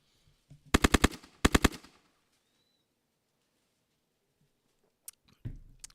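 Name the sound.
played recording of gunfire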